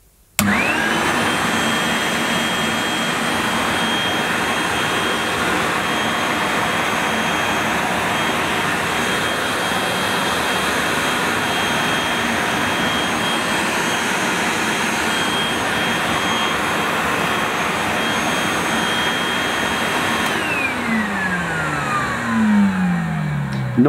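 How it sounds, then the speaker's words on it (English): A vintage 1970s Hoover S3005 Celebrity floating vacuum cleaner with a 900 watt motor, running with an empty bag and no hose, starts abruptly and roars loudly and steadily with a high whine for about twenty seconds, then winds down. "Noisier than a Constellation, these, but with a 900 watt motor, I think they had a bit more suction."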